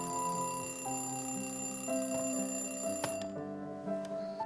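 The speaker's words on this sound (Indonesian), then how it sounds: "akhirnya terbangun oleh alarm yang ia sudah persiapkan untuk membangunkannya" A ringing alarm clock sounds in a film scene, set to wake a sleeping girl: a steady, loud, continuous electronic ring with shifting tones that carries on for several seconds, briefly interrupted near the end by a sharp click.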